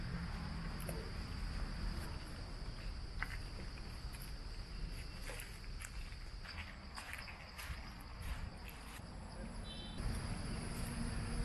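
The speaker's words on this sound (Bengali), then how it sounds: "আওয়াজ বলতে পাখির ডাক আর ঝিঝি পোকার শব্দ।" Crickets chirp steadily in a sal forest, a dense high trilling bed with scattered faint bird calls and a few soft rustles, quiet and continuous throughout.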